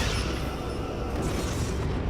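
A Romulan starship blowing apart in the Star Trek Legacy space combat game, heard as a steady, loud, rumbling blast with dense low roar that holds without letup across the whole moment.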